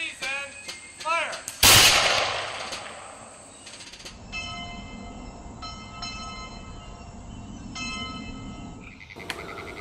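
A gunfire volley fired on command at a national park site cracks out as a single loud, sharp blast near the start, followed by layered outdoor ambience with whistle-like tones and rumbling.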